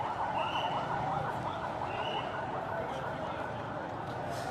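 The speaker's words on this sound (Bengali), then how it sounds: "এই মুহূর্তে আসলে একটি অ্যাম্বুলেন্স যাচ্ছিল" An ambulance's wailing siren rises and falls continuously over loud traffic noise on a Dhaka street, staying close throughout.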